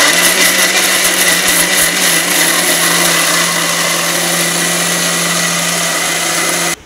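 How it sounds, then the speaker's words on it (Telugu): An electric mixer grinder blending boiled beetroot and spices for rasam, a loud, steady high-pitched motor whine and buzz held for several seconds close by, then cutting off abruptly. "ఇది మిక్సీ పట్టుకుందామండి."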